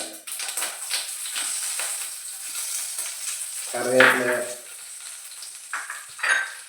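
Curry leaves crackle and sizzle as they drop into hot coconut oil with popping mustard seeds, a loud burst near the middle over steady frying hiss, with scraping of a utensil in the pan.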